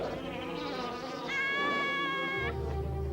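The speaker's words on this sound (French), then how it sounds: "et les abeilles bourdonnaient." Bees buzz in a cartoon scene, a steady whining drone that rises in pitch midway before giving way to a low hum, with no speech over it.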